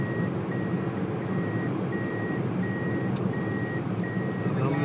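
A garbage truck moving on a road sounds a steady repeating electronic beep, about one tone per second over constant engine and road noise, moderately loud throughout.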